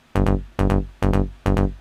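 Nasal mid-bass synth layer with no EQ roll-off, four punchy notes in an even rhythm, each with a bright buzzy attack and a quick decay, heard alone and up front.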